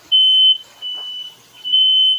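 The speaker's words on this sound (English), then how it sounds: "she told me that the alarms are very sensitive" A sensitive smoke alarm goes off during cooking of deep-fried pork steak, sounding three loud, piercing high beeps with short gaps between them.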